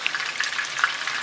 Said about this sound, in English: we're gonna go ahead and pan fry that, make it a little bit crispy